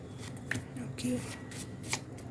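Handmade tarot cards riffle and shuffle in quick soft bursts close by, with faint speech-like sound around them.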